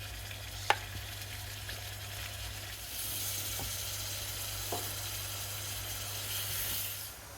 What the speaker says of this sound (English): Right, the onions going in, the oil is hot.